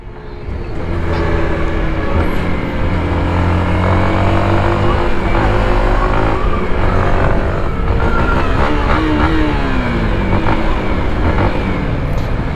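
A 2021 Yamaha WR155R motorcycle is ridden at speed, its engine a loud, sustained whine that rises and shifts pitch through gear changes, with wind noise throughout.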